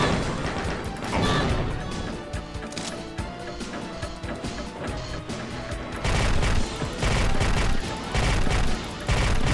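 Turrets firing in Doom, a loud, dense barrage of rapid gunfire and crashing impacts that runs continuously, with heavier bursts near the end and no talking.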